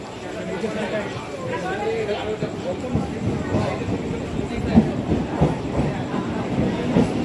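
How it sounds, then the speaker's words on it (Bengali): A train bound for Sealdah rumbles and clatters nearby as it pulls into a station, rolling steadily along the tracks, with people chattering in the background throughout. "দেখতে পাচ্ছ ট্রেন ঢুকছে, শিয়ালদা যাওয়ার ট্রেন"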